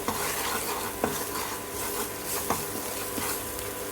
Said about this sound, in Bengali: এখন আমি হলুদটা দিয়ে দিলাম, হলুদটা আদার সাথে মিশিয়ে নিচ্ছি